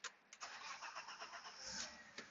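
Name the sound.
1993 BMW 325i engine cranking and starting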